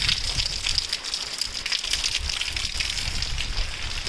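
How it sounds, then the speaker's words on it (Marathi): Steady monsoon rain falls on a village, a dense continuous hiss with a faint low rumble underneath and no voices. "हा पाऊस अजून चालू आहे"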